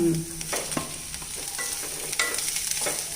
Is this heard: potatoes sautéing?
yes